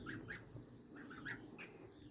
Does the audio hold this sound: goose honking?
yes